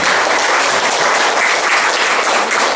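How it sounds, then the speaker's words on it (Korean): Dense, loud applause from the audience at the opening ceremony of the 13th Insadong Art Fair, a continuous wash of many hands clapping at once with no break and no talking. "박수 한번 쳐주시기"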